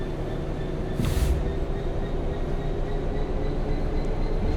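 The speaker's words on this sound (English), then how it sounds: "There's a loaded freight." Loaded freight train passing close by a moving train on a rail line, a continuous heavy low rumble and rolling clatter, with a brief hiss burst early on and no voices.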